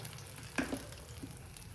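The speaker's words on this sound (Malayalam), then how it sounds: "എണ്ണ ചൂടായി കഴിഞ്ഞാൽ കുറേശ്ശെ ഒഴിച്ച് നമുക്ക് ചുട്ടെടുക്കാം." Unniyappam batter being poured into hot oil and frying, a soft steady sizzle with a brief sharper burst of crackle as the batter hits, then settling back to a quiet bubbling hiss.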